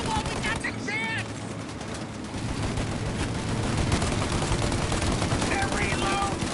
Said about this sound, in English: Shoot out their gun when there's a break in the fire! Shoot now while we got the chance!